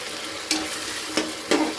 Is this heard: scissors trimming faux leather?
no